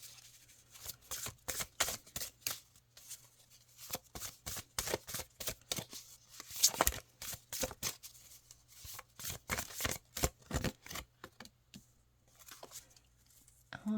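Liminal Spirits oracle cards are shuffled by hand in a run of quick riffling bursts, each a brief papery flutter repeating irregularly and close by, with no voices.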